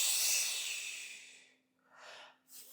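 Controlled Pilates breathing during a standing lunge exercise: one long, close breathy exhale that fades out, followed by two shorter soft breaths.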